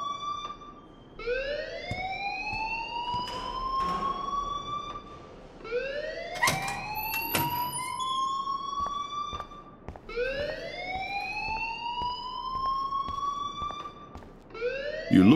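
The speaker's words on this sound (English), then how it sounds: "please turn off that alarm" A fire alarm in the game Life is Strange wails in rising, siren-like sweeps that repeat about every four seconds, loud and steady with no talk over it.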